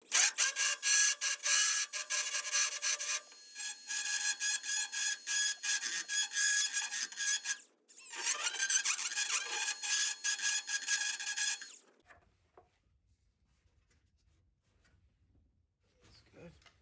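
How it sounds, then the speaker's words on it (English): Sander working over the metal of a 1949 Ford F1 door, a close, harsh rasping scrub in short bursts with a brief pause near eight seconds, then cutting out to near silence. "I'll finish it off with a 60 or 80 grit sander just to clean it up and have it be done"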